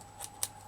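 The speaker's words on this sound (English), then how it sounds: "Just cut this away a minute, just so I can finish it off" Scissors cut away material in two quick, faint snips close by, one after the other, in an otherwise quiet room.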